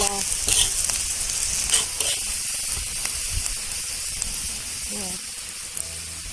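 Green chillies, garlic and cumin seeds roast in a pan for a village-style kharda, giving a continuous close sizzle and hiss with a few stirring scrapes and occasional voices.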